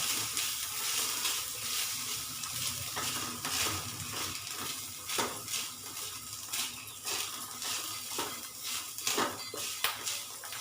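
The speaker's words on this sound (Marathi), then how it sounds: "ते पण चांगला परतून घेणार आहे। विलायची पण टाकलेली आहे त्याच्यामध्ये।" Fresh grated coconut with cardamom being sautéed in a pan for a sweet rice dish, a continuous close sizzle broken by frequent scraping and clinking of a spoon stirring against the pan.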